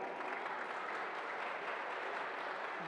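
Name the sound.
applause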